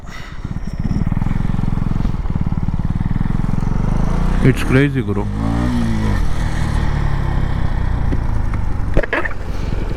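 A KTM Duke 250 BS6 motorcycle on a top-speed run, engine droning hard and rising through gears with wind rush, someone speaking excitedly over it midway.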